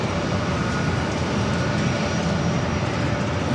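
A JetBlue Airbus A321 jet taking off at San Diego airport bound for JFK, a loud, steady broadband engine roar heard throughout without pause.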